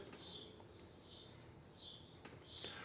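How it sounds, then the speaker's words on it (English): Faint birds chirp in short, repeated bursts a few times, distant and quiet against a hushed outdoor background in Montana. "Get to listen to my neighbors chirping away over there."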